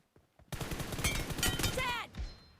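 Rapid bursts of automatic gunfire from a shooting video game with headshot kills, loud dense rattling shots after a quiet start, ending abruptly, with a player's voice speaking faintly over the action.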